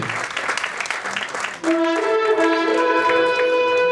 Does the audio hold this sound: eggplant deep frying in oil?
no